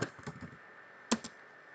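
Keys tap on a computer keyboard as a command is typed, a quick cluster of soft clicks followed after a pause by two sharper keystrokes, close and fairly quiet.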